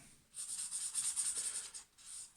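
Pen drawing back over lines on paper, a close, quiet scratchy scribbling in short back-and-forth strokes with a brief pause near the end.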